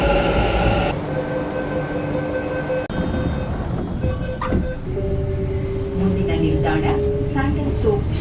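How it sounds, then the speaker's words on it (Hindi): A Bangalore metro train pulls in and runs along the line, with a steady rolling rumble, a rising electric motor whine and tonal hums, loud and close throughout. "फाइनली हमने वहाँ से मेट्रो ले ली है"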